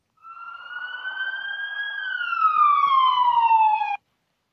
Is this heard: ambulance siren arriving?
yes